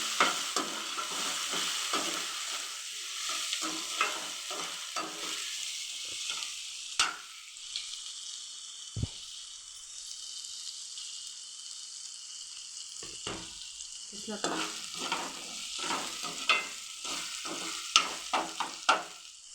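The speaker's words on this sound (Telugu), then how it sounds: "పచ్చి వాసన పోయేంత వరకు కలుపుకోవాలి" Semiya and rava pulao masala sizzles in a pan while a spoon stirs and scrapes it in bursts, with a quieter lull midway before stirring picks up again, close and fairly soft, no speech.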